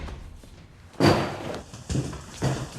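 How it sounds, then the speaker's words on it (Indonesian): A door in a film is yanked open after a doorbell, giving a sharp, close thump-slam followed by two softer knocks and handling sounds in a quiet room. "dia langsung bergegas membukakan pintu"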